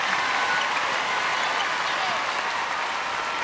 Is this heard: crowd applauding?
yes